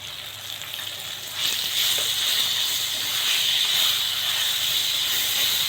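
Asafoetida, fenugreek powder and cumin powder sizzling in hot oil for a raw mango pulihora paste, a close steady hiss that swells louder after a second and holds, no talk.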